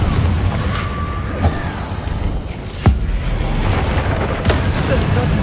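A Confringo blasting spell detonates in a video game with a sharp booming crack near the middle. Softer impacts and game noise surround it, and a voice is heard around the blast.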